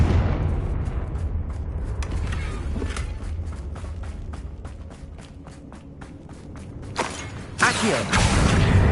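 A Confringo blasting spell in Hogwarts Legacy, a low rumbling battle bed with a rapid train of clicks, then bursting blasts that swell loudly near the end.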